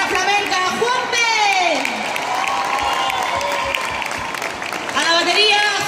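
A festival crowd at a concert in Silleda, Pontevedra, applauds and cheers for the guitarist, a loud sustained roar with whoops while a voice carries over the top.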